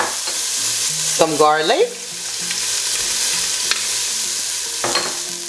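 Red bell peppers, onions and garlic sizzle in a Ninja Foodi pot, a steady close crackle running throughout, with a brief spoken phrase and a stirring scrape early on.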